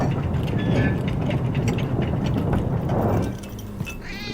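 A train passes in a video game, giving a sustained low rumble with rhythmic rattling that fades out near the end before a brief sharp click.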